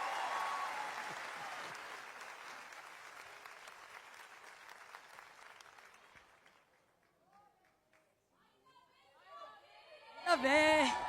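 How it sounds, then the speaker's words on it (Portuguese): A congregation at an ADVEC church service applauds in a broad, crowded wash that slowly fades to near silence, then a single voice starts speaking loudly close by. "aplaudindo ao Senhor bem forte."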